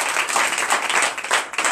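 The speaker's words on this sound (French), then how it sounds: "Donnez l'acclamation à Jésus" A congregation claps loudly and steadily during a night deliverance and prophecy church service, the dense applause continuing throughout with a brief dip near the end.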